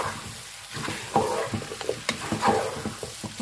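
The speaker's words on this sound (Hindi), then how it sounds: "अब अपने आलूओं को भी अच्छे से भून लेंगे।" Cut potatoes frying in a pan for aloo keema, a continuous close sizzle with repeated scraping stirs that come in short bursts.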